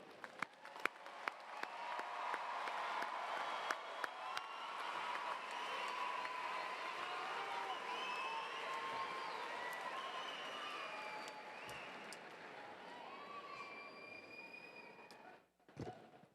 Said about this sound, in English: Please join me in applause once more for our graduates today.